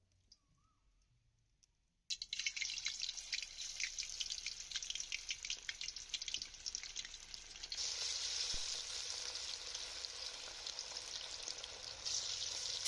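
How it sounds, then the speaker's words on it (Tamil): Pieces of chicken 65 are lowered into hot oil and deep-fry with a loud, steady sizzle and crackle that starts abruptly after a quiet moment and continues without a break. "கொஞ்சம் கொஞ்சமாக போட்டு பொரிச்சு எடுத்துடலாம்."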